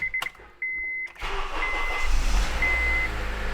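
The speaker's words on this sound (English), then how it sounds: "So let me start the engine." Electronic beeps from a car battery and alternator tester, then a car engine cranks and starts, settling into a loud, steady idle close by.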